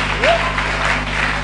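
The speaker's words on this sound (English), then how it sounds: "Can we clap for Jesus?" A church congregation claps during a prophetic service, a dense, steady roll of applause filling the short stretch, with a voice briefly heard over it.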